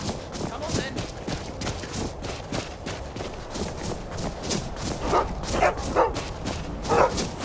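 Dogs in Skyrim bark repeatedly while following the player, sharp yips and barks mixed with running footfalls, and a voice speaks over them.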